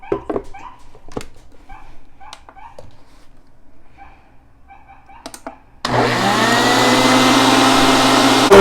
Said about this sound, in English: we're gonna start by blending this first.